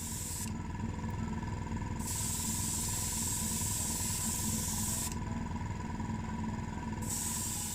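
Spray gun laying a first coat of paint onto a car part during a Ferrari Berlinetta restoration, a steady close airy hiss running throughout with brief pauses in the high spray noise.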